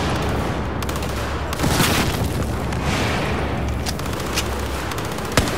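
A frag grenade goes off in a Battlefield 4 campaign firefight, giving a loud booming blast amid dense, continuous gunfire and battle noise.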